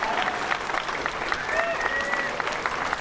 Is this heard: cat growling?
no